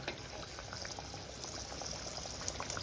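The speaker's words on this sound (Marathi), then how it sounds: "गॅस मिडियमवर ठेवायचं आणि वडे तळायचे" Mirchi vada, chilli fritters for a Rajasthani snack, deep-frying in hot oil over a medium gas flame, giving a steady close bubbling hiss with faint crackles and no voices.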